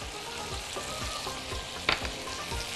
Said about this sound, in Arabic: بينا نقلب بقى الرز كويس كده علشان نسخنه